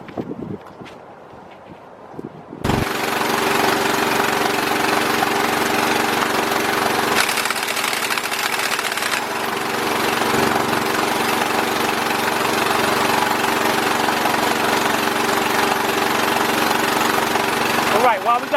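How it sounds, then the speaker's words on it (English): An air compressor starts up after a few quiet seconds of workshop shuffling and then runs loud and continuous, a steady droning hum with a rough mechanical texture, in a garage during front hub work on a 2003 Chevy Trailblazer. "let me start the compressor up, and when we come back, we'll get that lug off"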